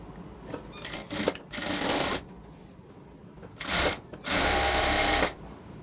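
A sewing machine stitches doubled salwar pant fabric in several short motorized runs of varying length, separated by quiet pauses, with the last and longest burst near the end; no talk.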